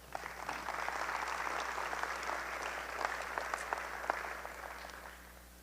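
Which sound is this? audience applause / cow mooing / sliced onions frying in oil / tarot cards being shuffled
audience applause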